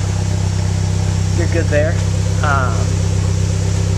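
A Mitsubishi Evo X with an Ultimate Racing turbo-back exhaust idles high and steady on a cold start, a loud, even drone throughout, with someone speaking briefly over it.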